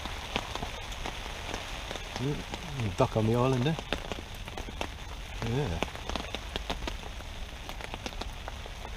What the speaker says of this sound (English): Blimey, it's certainly raining now.